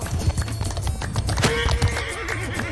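Horse hooves clip-clopping at a gallop with a loud neigh, mounted cavalry in a Mount & Blade II Bannerlord multiplayer siege battle, set against steady battle noise and clashing.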